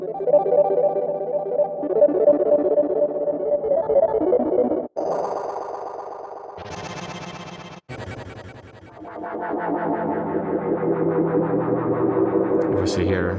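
A DX7-style FM synthesizer plays through a pro reverb effect, bright metallic tones ringing out with long washy tails, the patch changing character in distinct sections with brief gaps between.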